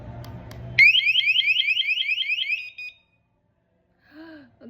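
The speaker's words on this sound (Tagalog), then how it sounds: "pag ginindot mo tong alarm, mag-a-alarm lang siya. Sobrang lakas ang OA" Wireless home security alarm set off from its remote: a loud, rapid warbling electronic siren of repeated rising chirps for about two seconds, then cutting off to near silence, with faint murmuring afterward.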